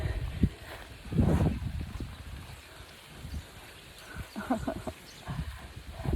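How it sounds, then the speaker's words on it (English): Goats at a fence give a few short bleats and grunts close by, scattered among rustling and outdoor background noise, with a voice heard briefly. "There's our goat."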